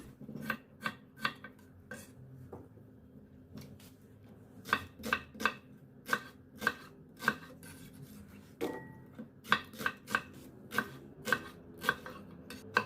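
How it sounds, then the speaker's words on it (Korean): A knife chops onion, pear, red chili, garlic, ginger and beet on a cutting board in sharp, close knocks, some in quick bursts and others spaced apart, over a quiet room background. "믹서기에 갈 재료를 썰어 볼게요"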